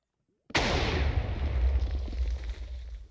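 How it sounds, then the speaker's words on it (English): A sudden loud explosion in Minecraft bursts in abruptly, then rumbles and crackles for several seconds before slowly dying away. "there's an explosion gonna happen"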